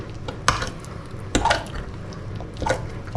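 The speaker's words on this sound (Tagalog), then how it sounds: "Mix mo siya na maigi." Shrimp and egg batter with flour for tortang hipon being mixed in a bowl, a few distinct clinks of a utensil against the dish mixed with soft wet stirring, fairly close and with no talking.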